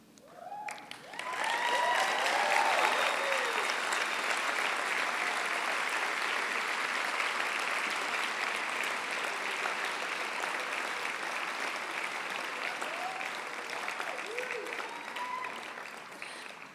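Steady applause from a graduation ceremony audience honoring spiritual psychology certificate recipients, a broad wash of many hands clapping that swells quickly and holds for the length of the clip, with a few voices calling out early on.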